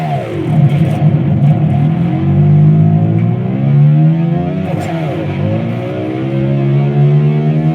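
A growling, revving tone that rises and falls like a car engine, sustained and loud, produced on an electric guitar.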